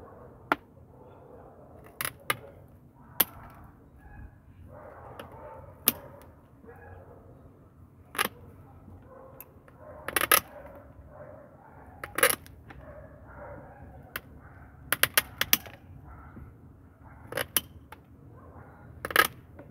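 Pliers work over a freshly cut azalea bonsai trunk, giving sharp, scattered clicks and snips, some in quick clusters, over a quiet, faintly murmuring room.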